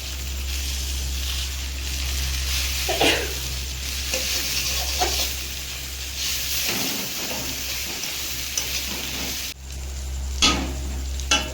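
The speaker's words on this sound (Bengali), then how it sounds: "মাথাগুলো একটু হালকা করে ভেজে দিই।" Fish heads sizzling in hot oil in a home kitchen pan, a loud, steady frying hiss with occasional stirring scrapes and crackles throughout.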